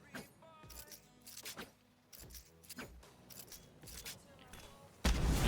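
Gunfire from the Valorant map Fracture: several sharp broadband shots in irregular bursts over game sounds and a voice, with a loud blast at the very end.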